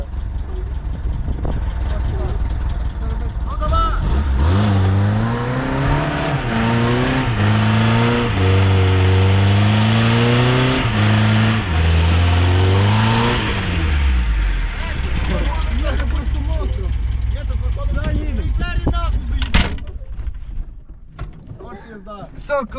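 A VAZ-2107 engine revs hard and loud for several seconds during a burnout, pitch rising and falling in surges, then settles back; people talk and shout around it.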